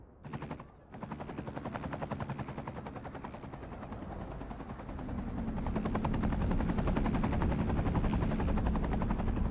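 A helicopter in a city-building game with a steady rapid rotor chop, continuous and close, growing slightly louder toward the end, alone after a brief gap at the start.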